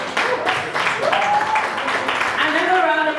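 Audience applause at a book launch for Lillian, dense clapping throughout with a person speaking over it and rising voices near the end.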